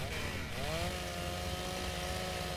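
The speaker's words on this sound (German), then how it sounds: "die Kettensäge ist episch" A chainsaw in ARK: Survival Evolved runs loud and close, a steady droning engine whine that shifts pitch briefly near the start and then holds a constant buzzing tone throughout.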